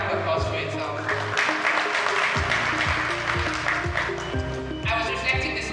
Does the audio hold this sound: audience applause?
yes